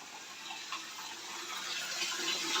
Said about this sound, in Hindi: मुझे ले जाना है अपना पानी का गागर, जो कि मैंने बाथरूम में ही भरने के लिए लगा दिया था।